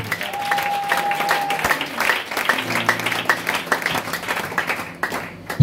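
A church congregation claps and applauds together during a service, a dense, steady wash of many hands clapping that carries on throughout, with a brief tone and a voice briefly under it.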